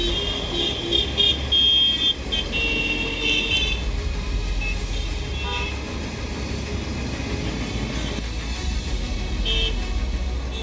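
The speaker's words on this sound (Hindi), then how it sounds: "सुनाई देगा तो सिर्फ हॉर्न बजाती गाड़ियों का शोर।" Vehicle horns honk in busy Delhi road traffic, several short toots and beeps scattered over a steady rumble of engines, with no talking.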